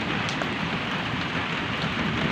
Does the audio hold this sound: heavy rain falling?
yes